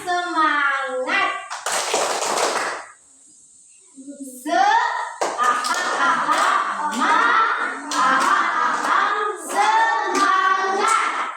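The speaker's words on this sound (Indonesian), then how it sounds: "Sekarang tepuk semangat." Schoolchildren in a classroom perform the tepuk semangat clapping chant, chanting in unison with bursts of rhythmic hand claps, pausing briefly before the chant and clapping resume, loud and close.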